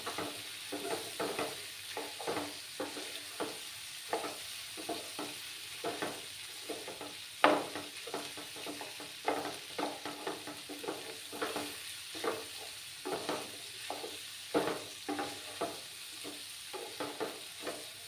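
A spatula stirs mixed vegetables and egg frying in a pan, giving repeated scraping strokes in a steady rhythm over a soft, constant sizzle, close and fairly quiet with one sharper knock.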